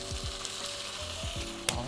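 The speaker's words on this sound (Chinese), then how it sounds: "炒一下" Pork ribs stir-fried with soy sauce in the inner pot of a Golden Fire thermal cooker, giving a steady close sizzle with a few scraping strokes of stirring and a brief clink near the end.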